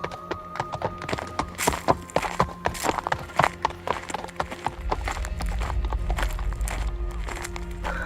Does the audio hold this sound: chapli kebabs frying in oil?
no